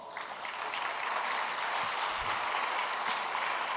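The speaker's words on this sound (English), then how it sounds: "Let's give them a big round of applause." Audience at a formal annual meeting in Malaysia claps steadily in a broad, even wash of applause, moderately distant and continuous for a few seconds with no talk over it.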